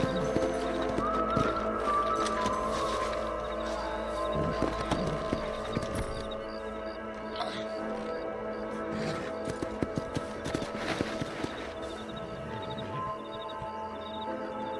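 Horse hooves clip-clop steadily in the video game Red Dead Redemption, played on an Xbox Series console, with an occasional whinny rising from a busy, continuous game soundscape.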